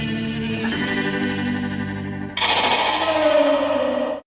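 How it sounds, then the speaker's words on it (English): Trippy psychedelic electric guitar from a song, layered and drenched in reverb and effects, sustained wavering tones that swell louder partway through before cutting off abruptly. "They use guitars and reverb and God knows what else to make that noise."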